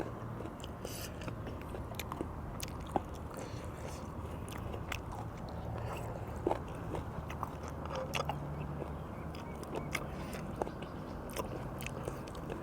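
Close, crunchy chewing of snails dipped in seafood sauce goes on steadily, with crisp bites and small cracks repeating in an irregular rhythm and no talking.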